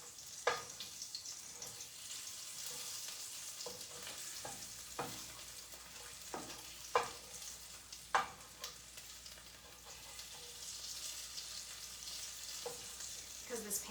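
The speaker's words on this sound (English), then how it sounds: "Oh, they're already frying up." Steady, crackling sizzle of garlic frying in hot oil, close and continuous, with a few sharp scraping knocks of a wooden spoon in the pan.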